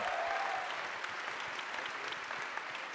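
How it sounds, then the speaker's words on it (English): An audience at a PlayStation Experience gaming panel applauds steadily for the technicians, a dense, sustained wash of clapping that lasts from start to finish with no voice over it. "Round of applause for your technicians."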